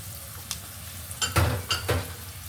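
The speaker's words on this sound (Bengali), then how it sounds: "এক কাপ পেঁয়াজ কুচি তারপর এখানে দিয়ে দিচ্ছি বেশ কিছু কাঁচামরিচ কুচি করে রেখেছি" Chopped onion and green chilies being stirred in a hot pan, with a soft background sizzle and a few louder scraping strokes of a spoon against the pan.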